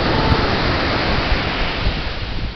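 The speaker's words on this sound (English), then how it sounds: "That's a big wave coming." A big ocean wave breaks on a beach, a steady loud roar of surf and wind rushing across the whole stretch with a few low thumps, no voices.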